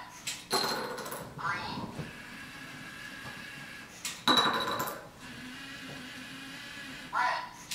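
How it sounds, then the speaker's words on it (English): Small pods dropping into an EV3 color-sorting robot, a few clinking, rattling impacts in separate bursts with quieter mechanical whirring between them, nearby and moderately loud. "dropping these pods"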